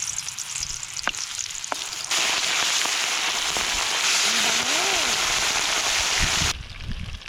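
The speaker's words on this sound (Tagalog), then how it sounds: "Ipirito na natin mga kababayan ang ating isda at dagyan po natin ng bawang para pampalasa at mabango." Fish and garlic frying in hot cooking oil, a steady loud sizzle that swells after a couple of seconds and holds before cutting off, with faint clinks and a voice-like tone briefly in the background.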